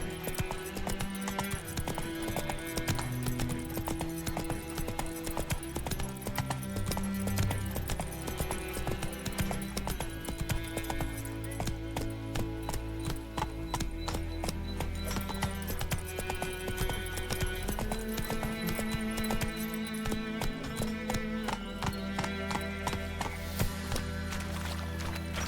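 Hoofbeats of the horse Roach galloping in The Witcher 3, a steady rapid clip-clop under a continuous loud game music score, with an occasional whinny.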